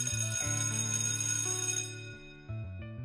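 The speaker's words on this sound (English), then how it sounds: "The bell sounds as Alice treads closer." A bell rings in the Student Union video game, a clear chiming tone with sustained harmonic ringing that shifts pitch a few times and fades, then strikes again near the end, with no voices.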